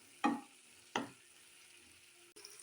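Spices with tomato and salt are sautéed in a pan, with two sharp, close clanks of a spatula against the pan followed by a quiet, faint sizzle.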